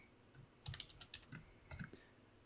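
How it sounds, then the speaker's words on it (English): Rapid, furious typing on a computer keyboard, with irregular bursts of clustered key clicks over about two seconds, close and moderately loud against a quiet background. "he is typing furiously"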